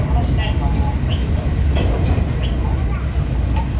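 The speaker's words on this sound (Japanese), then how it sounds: "まもなく山科駅に到着します" A Haruka limited express train running on the outer line as it approaches Yamashina station, a steady close rumble of rolling wheels and rail noise lasting throughout with no clear talk.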